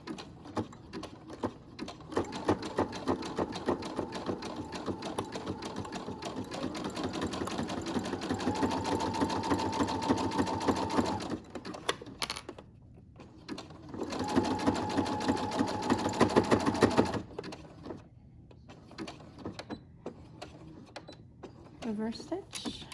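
Sewing machine zigzag-stitching elastic onto a homemade fabric medical mask, a steady fast mechanical whirr in two long runs separated by a brief pause, close and fairly loud, with some speech in between.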